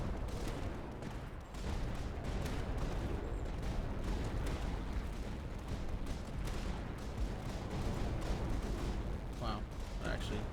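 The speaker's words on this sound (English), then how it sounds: "Electric arc cannons are what we need." Electric arc cannons firing at kaiju in the Tower Dominion strategy game, a dense continuous barrage of crackling bursts and booms with no break, fairly distant and muffled.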